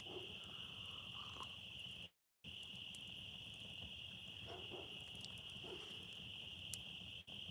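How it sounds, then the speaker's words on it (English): Crickets chirp at night outdoors in a continuous, shrill, even drone that fills the background, with a brief dropout partway through and no voices. "the crickets are coming through"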